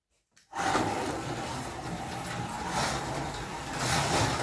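A BRM NSU TT slot car motor and gears start up on the first run, a steady, close whirring drone that kicks in abruptly and holds with a slight rise toward the end.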